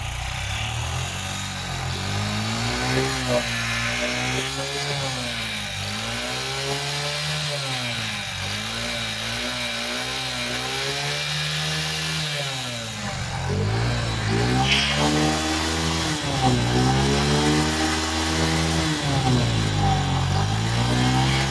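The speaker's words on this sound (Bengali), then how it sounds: "তো এবার আমরা বাইকটিকে স্টার্ট দেব।" A Yamaha motorcycle started without a battery after a CDI modification, its small engine catching and revving repeatedly in rising and falling surges, loud and close with no talk.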